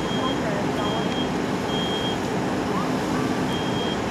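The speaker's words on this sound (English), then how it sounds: "Smoke detector activates at 7 seconds." A high, thin electronic alarm beeps in short repeated tones over a loud, steady roaring background.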